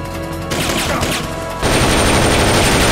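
Sustained automatic gunfire aimed at the Pupa boss in Metal Gear Solid Peace Walker, a dense loud barrage that shifts and grows even harsher partway through, with no talking.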